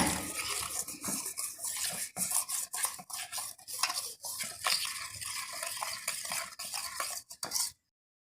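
Rose cookie batter being beaten and mixed in a bowl with powdered sugar and cardamom, a busy run of quick whisking and scraping clicks that stops abruptly at the end.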